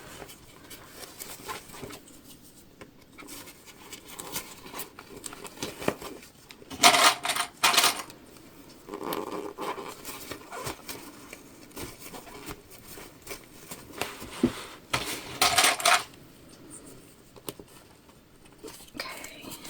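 A sewing machine top stitches a shoulder bag in short, quick bursts of stitching, separated by quieter pauses, with faint talk in the background.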